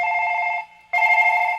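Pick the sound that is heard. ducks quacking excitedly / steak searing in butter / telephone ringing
telephone ringing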